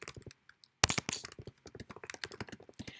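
Rapid typing on a computer keyboard, close and dry, with dense irregular key clicks running almost continuously after a short quiet opening.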